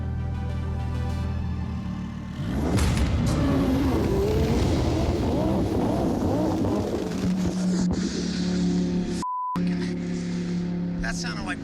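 Lamborghini drag car called Envy launching down a quarter-mile strip, a loud broadband engine roar building after a quieter idle, sustained for several seconds before a brief cutout near the end.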